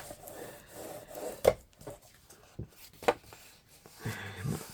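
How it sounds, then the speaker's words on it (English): Paper is burnished along a half-inch score line with a tool, producing quiet, close rubbing and scraping strokes broken by a few sharp taps. "your score line from that we did, the 1/2 inch score line. And I'm going to burnish this out."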